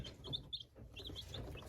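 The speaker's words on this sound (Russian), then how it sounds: "Вот так вот выглядят цыплята на 5-е сутки" Small high-pitched peeps from five-day-old Marans chicks, several short chirps in quick succession over a low background rumble, fairly faint.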